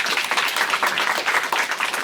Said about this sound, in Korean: 맞으면 박수 한번.